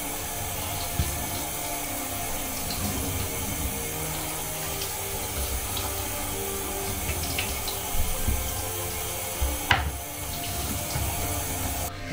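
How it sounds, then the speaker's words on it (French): Running tap water splashes steadily over a cured ham during a light rinse at a sink, a continuous broadband wash with a few louder splashes and knocks near the end, no talking. "on fait un léger rinçage"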